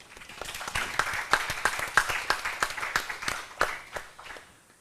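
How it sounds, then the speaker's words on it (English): An audience at a panel discussion gives a short round of applause for the panelists, with sparse, distinct claps that build briefly and then taper off into silence. "So if we can have a round of applause for all of our panelists."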